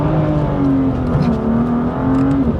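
A BMW M2 with a stage 1 map accelerates hard on gravel, its engine revving loudly and close with a rising drone, tires slipping and crunching beneath it.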